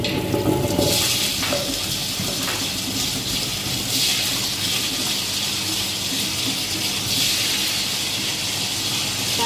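Steady, loud whooshing and churning with a hissy, watery texture runs throughout as a wet grinder works a batch of soaked parboiled idli rice.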